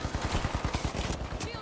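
Rapid automatic gunfire fills a video game shootout with dense, evenly spaced shots that run loud and unbroken for under two seconds.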